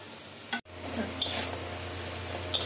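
Bitter gourd frying in a pan sizzles steadily, with a brief break near the start and a few louder bursts of spattering oil, heard close and with no talking.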